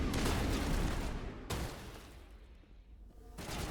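A weapon fires in the Mass Effect game, a loud dense burst of shots that cuts off abruptly, then a quieter tail of rumble before another burst starts, close and without speech.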